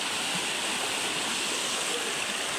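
River water rushes steadily in a continuous, even hiss, fast-flowing and close by, with no voices.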